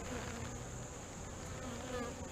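Honeybees buzz inside a hive during an inspection, young bees festooning on new comb, a steady close droning hum lasting the whole moment without talk.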